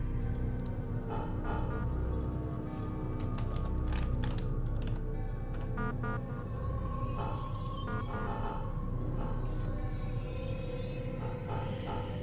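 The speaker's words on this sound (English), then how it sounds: "it's making me use the keyboard" Computer keyboard typing to enter a player profile in Assassin's Creed, with irregular clusters of close, crisp key clicks over a steady low game hum.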